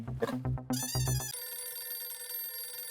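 A telephone rings with a bright electronic trill, a couple of short bursts followed by a sustained ringing tone, fairly faint.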